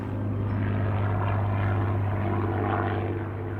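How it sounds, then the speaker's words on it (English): A Spitfire flies under the steady, loud drone of its propeller engine, an unbroken throaty hum heard from inside or close by during a training flight. "Civilian pilot Dave Mallon is flying his second hour of Spitfire training."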